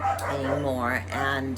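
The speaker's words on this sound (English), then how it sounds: "excuse the dog, she's going nuts" An excited pet dog, a female, yips and whimpers in a home while someone talks over her, with short high barks and whines mixed under the speech.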